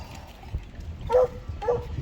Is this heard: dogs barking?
yes